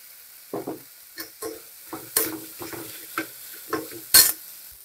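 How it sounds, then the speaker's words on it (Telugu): Thinly sliced onions with salt and turmeric fry in a pan, with repeated spatula scrapes and clatters over a quiet sizzle, the strikes coming every half second or so. "సన్నగా తరిగి పెట్టిన ఉల్లిపాయ ముక్కలు, కొద్దిగా సాల్ట్ వేసి వేయించుకుందాం. త్వరగా వేయించండి."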